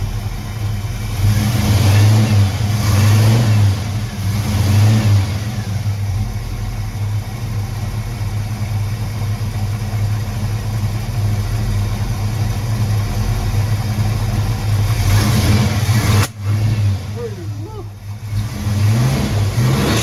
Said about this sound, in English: Engine sounds so good. That exhaust sounds beautiful.